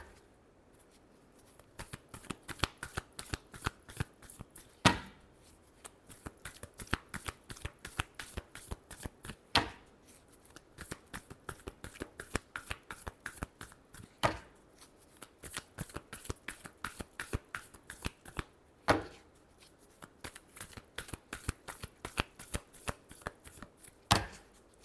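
Tarot cards are shuffled close by in quick riffling bursts, with sharp louder snaps every few seconds as the deck is tapped or split, continuing for about twenty-five seconds with no talking.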